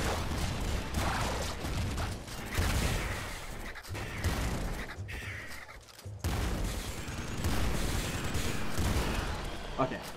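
Rapid, dense gunfire from a shotgun and a Super Splinter Gun in the Nuclear Throne Ultra Mod video game, with bursts of shots and booms packed together almost continuously while someone talks over the action.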